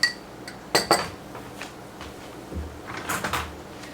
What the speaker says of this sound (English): Now we're just going to mix up our cream.